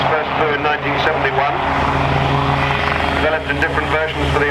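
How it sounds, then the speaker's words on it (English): A Westland Lynx helicopter flies at an air show, its rotor and engine droning loudly and steadily while a commentator talks over it. "Successful helicopter, the Lynx, first flew in 1971,"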